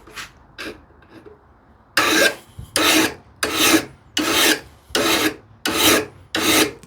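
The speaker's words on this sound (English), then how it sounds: "my file, I can use my file on it, like so" A hand file rasps across an O1 tool steel blade for a wooden rebate plane, first a few light strokes, then seven loud, evenly spaced strokes close up.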